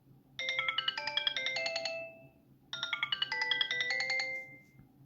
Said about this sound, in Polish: No i mamy jeszcze do tego dzwonek.